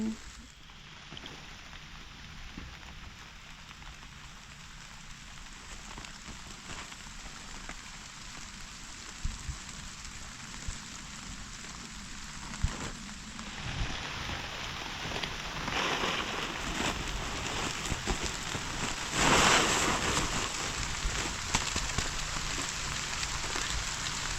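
Steady rain falls in a rural village setting, a constant close patter and hiss lasting throughout, with faint background sounds but no clear talk.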